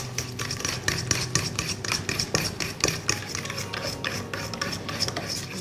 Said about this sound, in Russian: Все тщательно перемешаем.